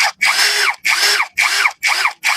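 A Nagawa NCB22K cordless drill whirs in five short, loud bursts with brief gaps between, each rising and falling in pitch, running at its second speed setting with no voices.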